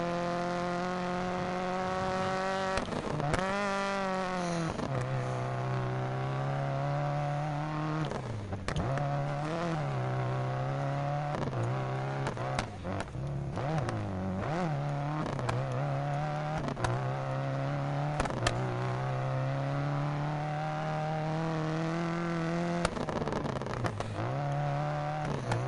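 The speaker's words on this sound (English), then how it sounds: "this is a rally car game, not a regular racing game" A rally car in a video game revs hard through corners, its engine note rising and falling sharply as the driver throttles and brakes. The engine stays loud and continuous throughout, with no talking.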